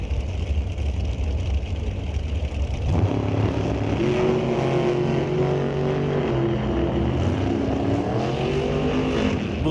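An NHRA drag-racing dragster at the Canadian Sportsnationals thunders down the strip, a loud steady engine roar that swells sharply after a few seconds into a harsh, rising, sustained howl as it accelerates away.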